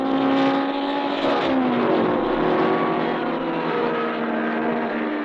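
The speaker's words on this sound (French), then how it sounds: "Encore une seconde et les 15 voitures s'élancent." Fifteen race cars at the 1949 French Grand Prix roar away together from the start, a dense, loud, continuous blare of engines revving and rising in pitch, with no voices over it.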